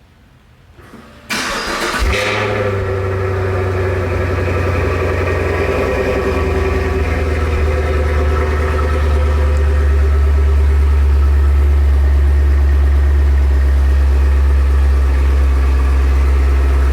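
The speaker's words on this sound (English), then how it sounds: "Let's give y'all a cold start real quick." A Chevrolet Camaro SS V8 cold-starts close by with a starter whir and a sudden loud roar, then settles into a steady, deep, rumbling high idle for the rest of the clip, with no talk.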